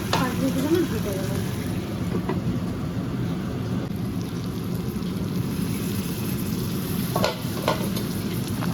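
Potato and eggplant curry cooks in a pan with a dense, continuous low sizzle and bubbling, with faint scrapes of a stirring spoon now and then.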